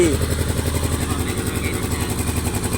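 Kawasaki 700cc jet ski engine just started and running roughly, a close, loud rhythmic chugging idle with even pulsing beats and no talk.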